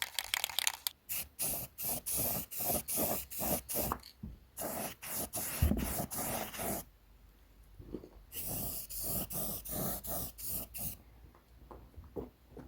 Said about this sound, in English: always shake your can every time you get ready to spray it